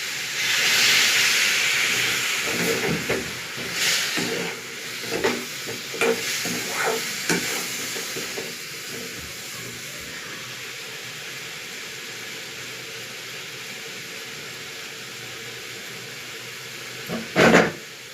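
Water splashes into a hot pan of frying spices for a katla fish dish, setting off a loud hissing burst of steam that eases into a softer simmering sizzle, with occasional stirring clinks and a sharp knock near the end.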